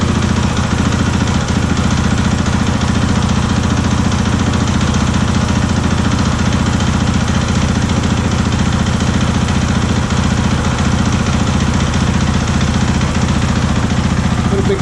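A 2013 KTM 500 motorcycle engine idles steadily, a loud, close and continuous low throbbing rumble that holds constant for the whole stretch with no voices.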